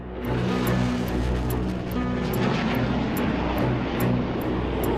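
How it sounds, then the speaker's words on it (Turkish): Military jets controlled by coup plotters fly low over Istanbul on the night of 15 July, a heavy, continuous engine roar with a deep rumbling drone that stays loud and steady overhead, with no voices. "darbecilerin yönetimindeki uçaklar kent üstünde alçak uçuş yaparak sonik patlamalarla halkı sindirmeye çalıştı."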